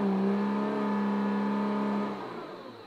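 Nissan GTR engine held at launch control RPM, a loud steady tonal engine drone for about two seconds that then drops to a lower, quieter hum.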